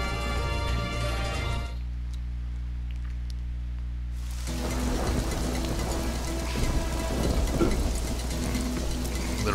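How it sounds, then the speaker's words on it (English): Steady rain falls in the video game Guacamelee, a dense hiss of drops on surfaces that drops away briefly, then returns heavier with faint rumbles, with no voices over it. "A little bit of rain don't hurt nobody."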